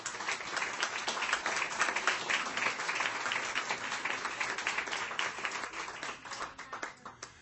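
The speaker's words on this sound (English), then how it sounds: "So give her a round of applause" An audience at a hall of honor evening gives a sustained round of applause for a speaker's wife, a steady wash of many hands clapping at moderate distance that eases slightly toward the end.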